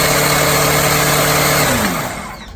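A top fuel nitro motorcycle engine, 1,500 horsepower, runs at a deafening steady roar up close, then winds down and fades near the end.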